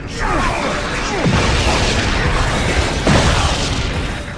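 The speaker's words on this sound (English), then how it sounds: "that is a pretty sweet explosion" Explosions in Ratchet and Clank Future: A Crack in Time boom loudly amid dense game combat noise, two heavy blasts roughly two seconds apart over a constant roar, with faint talk beneath.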